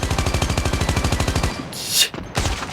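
AK117 firing in Call of Duty Mobile video game: a rapid, even burst of loud automatic shots for about a second and a half, then a short hissing whoosh and a few scattered sounds.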